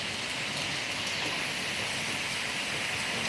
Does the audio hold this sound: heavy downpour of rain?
yes